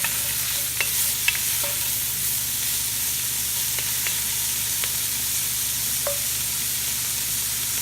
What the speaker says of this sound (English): Then with the heat still on high, add your sausage.